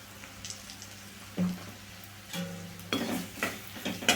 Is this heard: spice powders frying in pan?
yes